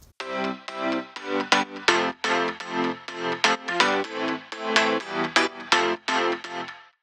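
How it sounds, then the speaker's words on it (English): Three layered synths from the drop of an electronic dance track, playing loud, rhythmic chopped chords in short repeated bursts with no talking. "So let's start with the synths in the drop."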